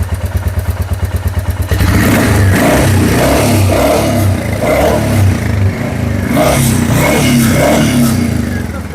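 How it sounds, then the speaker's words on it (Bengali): A used Royal Enfield Meteor 350 motorcycle at a dealer first idles with a loud, even single-cylinder thump. It then revs up into a sustained roar with repeated throttle surges, close and loud. "ইঞ্জিনের বিটটা একবার শুনিয়ে দিতে হলো কাস্টমারকে"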